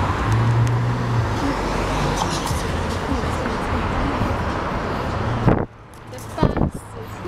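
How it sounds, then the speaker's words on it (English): A city bus pulls up at a street bus stop, giving a steady loud roar of engine and road traffic that drops away near the end, followed by a few brief knocks. "The bus is here."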